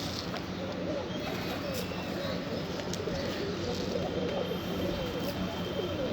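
Pigeons coo faintly and continuously under a dense, steady wash of outdoor noise at a daily feeding spot where a lame pigeon usually comes.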